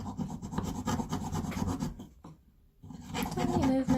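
A jeweler's saw works through a double layer of metal in tiny strokes, giving a steady fine rasping scrape that pauses briefly before resuming, heard up close.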